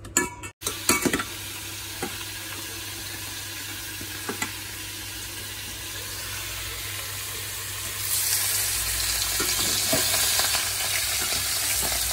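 Fish rubbed with salt and turmeric fry in a wok with a steady, close crackling sizzle, a few sharp clatters at the start and the spitting growing louder toward the end.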